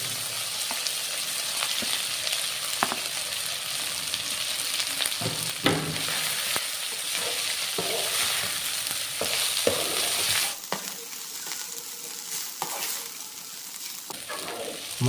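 Drumstick leaves stir-fried in a hot tempering in a pan, a steady close sizzle with scattered scraping stir strokes, fading slightly in the last few seconds.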